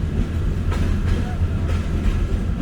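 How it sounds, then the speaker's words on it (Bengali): A fast train rushes past the Joypurhat Sadar rail crossing in Bangladesh, a loud, steady low rumble of wheels and wagons with faint rhythmic clatter holding throughout, close by and with no talk. "গতিতে আসতেছে দ্রুতগামী ট্রেনটি"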